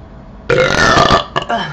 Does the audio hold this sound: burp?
yes